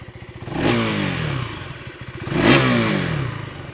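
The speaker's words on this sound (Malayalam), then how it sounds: "എക്സോസ്റ്റ് നോട്ടൊന്ന് കേൾപ്പിക്കാം." A 2024 KTM Duke 390 motorcycle revs twice in sharp exhaust bursts, each rising and falling quickly over a steady, loud idle rumble, with no talking.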